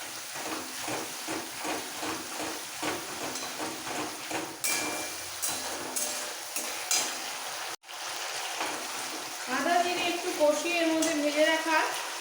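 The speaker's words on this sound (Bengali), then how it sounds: "এবার একটু কষিয়ে নেবো" Radish curry (mulor ghonto) sautéed in a pan with water and salt, a steady sizzle under repeated scraping spoon strokes, then a brief pause and a louder hissing burst, close up, no talk.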